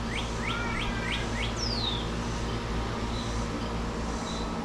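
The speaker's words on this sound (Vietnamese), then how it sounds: "Có con chim con ở trong kia kêu kìa." Baby birds chirping from a nest, a few short high peeping calls near the start with one longer descending note, over steady low background rumble and hum.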